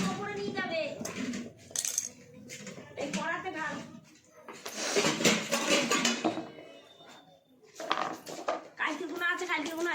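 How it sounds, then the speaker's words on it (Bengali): Toy pots and pans clink and rattle as a child plays, light metallic clatters in bursts with a longer jumble of scraping in the middle, while people talk throughout. "তোমার হাঁড়ি কড়াই কই সব?"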